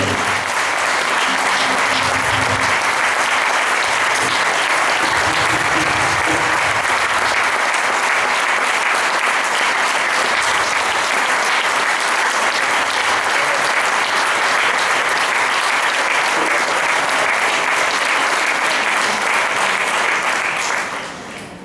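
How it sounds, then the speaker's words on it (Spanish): A large audience at the Pilares 2024 festivities in Puerto de Sagunto, Valencia, claps in sustained, thick applause that holds at full strength for around twenty seconds before tapering at the end. "Ese aplauso me ha gustado de verdad que sí."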